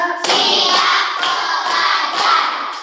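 Schoolchildren in a classroom clapping hands together in counted unison bursts, about five loud, close group claps spaced roughly half a second apart, each a ragged crack of many hands.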